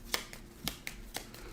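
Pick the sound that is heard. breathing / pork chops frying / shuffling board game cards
shuffling board game cards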